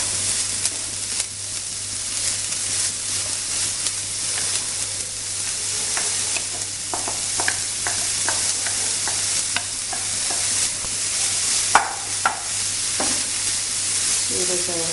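Chopped red spinach stir-fried in a pan for cheera thoran, with a continuous hiss and sizzle and a run of crisp spatula scrapes and knocks that quicken toward the end, heard up close with no voices.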